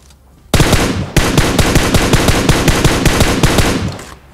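Rapid automatic gunfire in the mobile battle royale PUBG Mobile, a loud sustained burst of closely spaced shots starting after a brief quiet lead-in and running steadily to the end, no talking.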